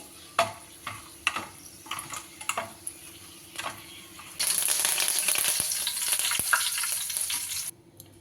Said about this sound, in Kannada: ಅದನ್ನು ಕೂಡ ಎಣ್ಣೆ ಫ್ರೈ ಮಾಡ್ಕೋತೀನಿ